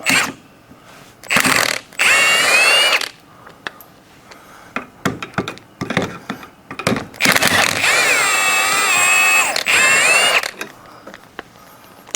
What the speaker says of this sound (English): So then I'll back that bolt out and see if we can't drop this leaf spring down